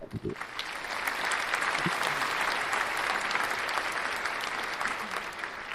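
Recorded applause plays as a sound effect, a sustained, even burst of crowd clapping and cheering after a few brief thumps at the start.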